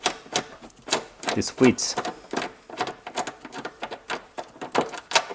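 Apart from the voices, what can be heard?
10mm socket loosening bolt on Toyota fuel tank cover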